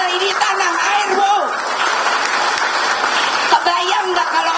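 A crowd at a political speech claps in a thin, steady patter while a voice carries on over the top, never swelling into a lively ovation.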